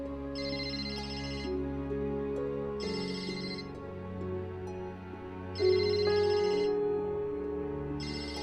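A telephone ringtone sounds again and again, the ring cutting in and out in a steady repeating pattern over a low sustained backing, with no voices.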